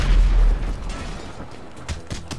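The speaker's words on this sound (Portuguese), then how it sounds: "que explosões são essas?" Explosions in the online shooter game GTA V Online: a loud deep boom opens, followed by a rumbling tail and a few scattered fainter blasts and pops.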